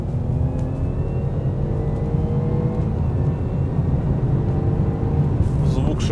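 A Jaguar XE engine drones and whirs steadily in sport mode, a low rumble rising slightly in pitch as it picks up speed, heard from inside the car.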